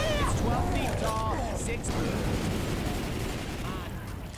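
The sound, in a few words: grenade launcher firing in Left 4 Dead 2 video game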